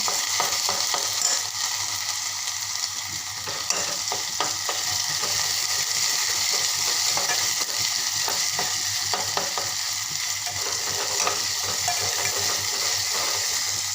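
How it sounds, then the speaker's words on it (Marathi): Onion with garlic paste frying in a pan for a bell pepper curry, a steady hiss of sizzling oil running throughout with faint scrapes of stirring, no voices. "मी आता लसणाची पेस्ट घालते लसणाची पेस्ट घालते तर छान असं मस्त एक जी होईपर्यंत असं परतून घेते"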